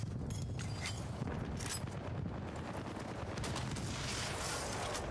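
Rapid, continuous gunfire from a first-person shooter video game fills the space as a dense, unbroken roar of shots and rumbling noise, loud throughout with no pauses.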